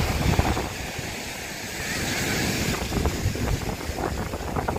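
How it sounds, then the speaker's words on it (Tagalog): Strong wind roars and buffets the microphone continuously by the sea, with a rumbling gusty texture and faint water motion underneath. "Lakas pa rin ang hangin, grabe."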